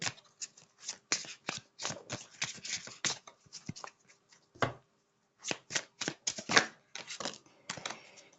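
Tarot cards being shuffled by hand, with quick crisp riffling clicks in bursts and a short pause midway, close and clear without talking.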